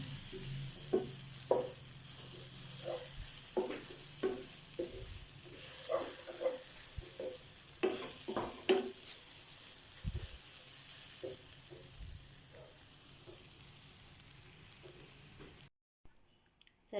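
Grated coconut roasting in a pan, with a soft steady hiss and repeated scraping stirs at an uneven rhythm, faint and close, no voices, cutting off near the end.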